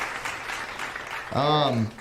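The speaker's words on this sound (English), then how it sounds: "I'm gonna give you a round of applause, sir" Applause for a guest with a complete T7-12 paraplegic injury on a Wheelchair Wednesday show, a soft patter lasting about a second before a voice with a rising, sung tone cuts in.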